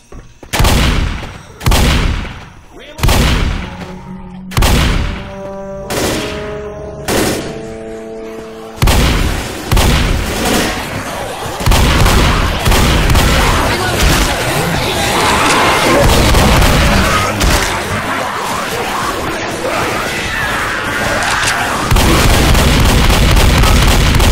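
Repeated shotgun blasts in the Left 4 Dead video game, about six loud separate shots at a steady pace with ringing tails, then a dense continuous roar of gunfire and chaos.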